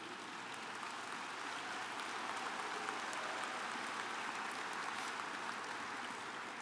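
Applause from a large audience at a Berkshire Hathaway annual meeting greets Charlie Munger, a steady, even patter of clapping that is fairly faint and continuous throughout.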